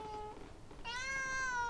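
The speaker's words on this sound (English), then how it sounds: "That is a cat." A cat meows once, close and clear, in a room where travellers are staying in Japan, the drawn-out call rising after a brief quiet rustle.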